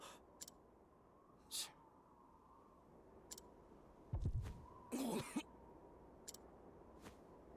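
A character in the video game Octopath Traveler coughs in a few short, quiet bursts, with faint ticking game sounds scattered around them over a low background hum.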